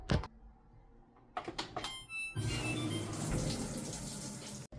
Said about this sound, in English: now we're going to wash it